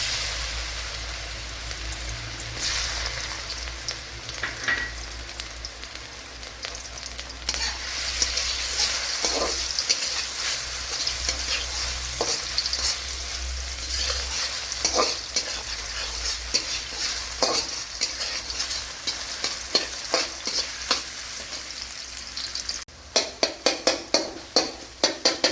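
Sliced ripe banana with cashews fries and is stirred in a pan for a poha banana sweet, producing a continuous sizzle with repeated scraping stirs and a cluster of sharper knocks near the end, with no talking.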